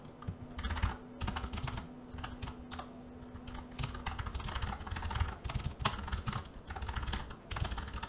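Steady, rapid keystrokes on a computer keyboard as a card number is entered at a checkout page, tapping in quick bursts with brief pauses, close and clear with no talking.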